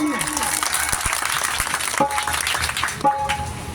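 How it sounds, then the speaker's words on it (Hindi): Applause from an audience after a girl's Independence Day speech, scattered clapping from many hands running under an ongoing voice and other background noise, moderately faint. "उन बच्ची के लिए एक तालियां होनी चाहिए"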